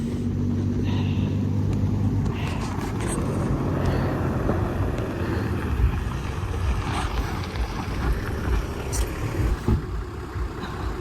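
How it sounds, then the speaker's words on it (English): A car approaches on a road in Africa, its engine a low rumble building steadily under constant wind noise, faint at first and drawing nearer. "Yeah, a car."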